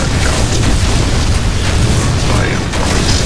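Blue core exploding in Unreal Tournament 3, a loud, continuous booming roar that fills the whole stretch without pause, with a voice faintly present underneath.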